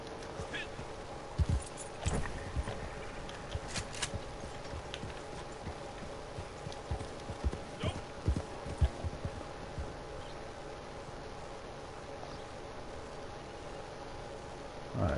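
Horses in Red Dead Redemption 2 Online clop along at a walk, irregular hoof knocks spaced through the stretch against a steady outdoor game ambience, fairly near but not loud.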